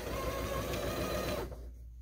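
A sewing machine runs steadily with a rapid, even stitching chatter as it tacks a Christmas pillow top onto batting, close and continuous, before stopping abruptly near the end.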